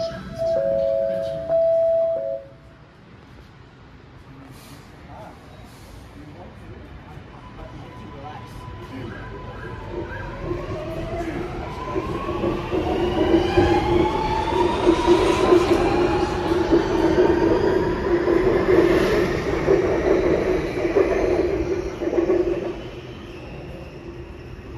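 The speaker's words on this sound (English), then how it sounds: "Train doors closing." A Sydney Metro train at Chatswood: a short door-closing chime and announcement, then the train departing with a rising electric motor whine and rolling rumble that builds, peaks and fades.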